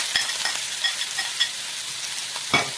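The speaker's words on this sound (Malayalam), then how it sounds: "ഇനി നമുക്ക് ഇതിൻ്റെ അകത്തോട്ട് സവോള ഇടാം." Sliced onions sizzle in hot oil already crackling with fenugreek and mustard seeds, a steady close frying hiss broken by a few sharp stirring scrapes against the pan.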